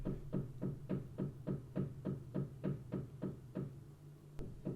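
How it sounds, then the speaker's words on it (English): Steady knocking on a wall or floor from a neighbor, about a dozen evenly spaced thuds in a quick rhythm, muffled as if through the structure, heard alone without talk. "if I start talking, she'll knock"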